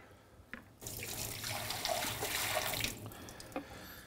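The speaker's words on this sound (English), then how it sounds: "I'm going to pour out the water." Water pours out of a removed prefilter housing from a GX600/1000 filtration system, a splashing stream lasting about two seconds and framed by a few isolated drips before and after, heard close and fairly quiet.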